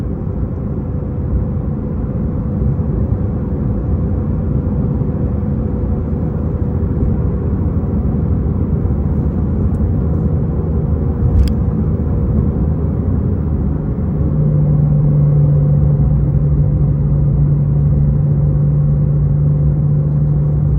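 A 2018 Porsche Carrera T engine drones steadily from inside the car during a pull, a constant low rumble that rises slightly in pitch and loudness toward the end, with a brief click partway through.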